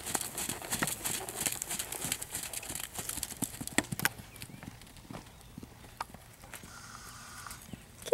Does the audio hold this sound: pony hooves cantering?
yes